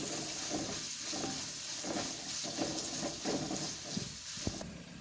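Onion and poppy seeds frying in a pan, a continuous close sizzle with soft stirring scrapes recurring at an even pace throughout.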